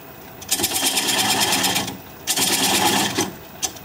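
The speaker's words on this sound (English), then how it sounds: "I'm going to grab a 3/8 inch standard grind bowl gouge and begin removing this tenon." A bowl gouge cuts the tenon off a plum bowl spinning on a wood lathe at about 530 RPM, making two long hissing, scraping passes with a short pause between them and a brief final touch, close and loud.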